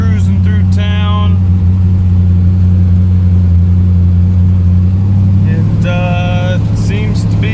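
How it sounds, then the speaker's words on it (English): A Chevrolet Chevette with a swapped-in V8 engine cruising through town on its first road test, a loud steady low engine drone with brief rises under acceleration, and someone talking over it at times. "we're test driving the Chevette. First time it's been on the road with this motor"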